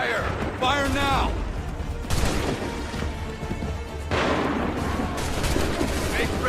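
Musket volleys ring out in an Assassin's Creed III battle, several dense bursts of gunfire at roughly two-second intervals, loud and close, with shouted orders between the shots.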